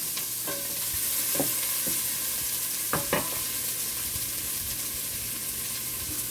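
White onions sweat and sizzle in a pot, giving a steady soft frying hiss broken by a few sharp clinks and scrapes of a spoon against the pot.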